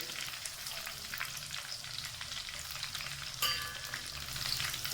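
Onions frying lightly in a pan for daal chawal, a soft continuous sizzle with faint crackle and an occasional stir, quiet and steady throughout.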